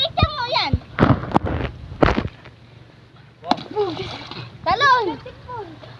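Swimmers jump in at Lawis ng Aluyon, making several sharp splashes in quick succession among excited children's shouts and chatter.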